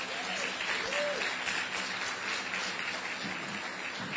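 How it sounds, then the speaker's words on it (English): Audience at a governor's remarks for a borough ferry terminal opening applauds steadily, a dense continuous clapping that holds at even loudness throughout without speech. "Give him a round of applause."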